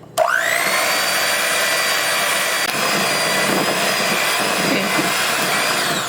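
A powerful electric mixer whirs steadily at high speed, beating buttercream with melted chocolate for a cupcake frosting; a loud, continuous motor whine that runs unbroken from start to finish without talk.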